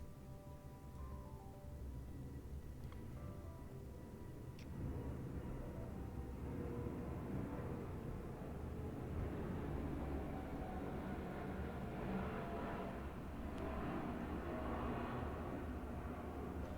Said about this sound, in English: You can probably hear that very loud plane